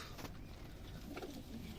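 Pigeons at a Rajshahi pigeon farm, Giribaz tumbler and racing pigeons, coo softly in low, murmuring calls, faint and somewhat distant, over a quiet background.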